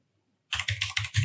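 Rapid keystrokes on a computer keyboard while entering a search in Google Chrome, a quick run of close, crisp clicks that starts after a short silence and carries on steadily to the end.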